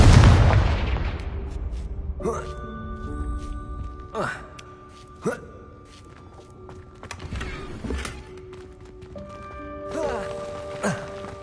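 Repeated blasting-spell explosions from a Hogwarts wizarding video game, several sharp bursts spaced a second or two apart, each ringing with tonal magical shimmer over steady game ambience.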